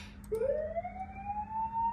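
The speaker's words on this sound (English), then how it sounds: "which will activate the first siren" A siren winds up from low to high in a steady rising wail over a constant electrical hum, close and fairly loud.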